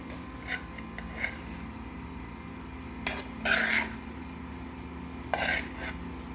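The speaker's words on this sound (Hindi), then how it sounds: "इस तरह मिक्स करते रहें।" Macaroni being stirred in a pan at home, a few soft scraping bursts of the spoon against the metal, mostly quiet between strokes with a faint low kitchen hum, no talking.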